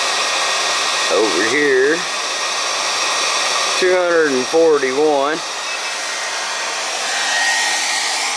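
Heater of a MAGRAV off-grid system blowing air with a loud, steady whooshing roar, while a voice speaks briefly over it.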